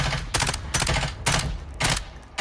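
Automatic gunfire in Call of Duty: Modern Warfare, fired in four or five loud, close bursts separated by short pauses, with no talking over it.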